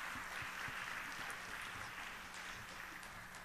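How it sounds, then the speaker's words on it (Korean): Church congregation applauding a choir of parishioners after a hymn, a soft, fairly distant steady patter of many hands clapping that fades slightly toward the end. "이번에는 1, 2교구 축복하며 박수하겠습니다"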